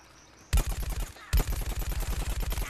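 Rapid, evenly spaced shots from a Pea Gatling in Plants vs Zombies Garden Warfare, two loud bursts of close, rhythmic rattling fire starting after a brief quiet moment.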